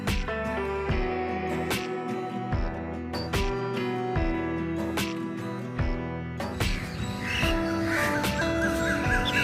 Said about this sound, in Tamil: ஓகே, காக்காலாம் வருது.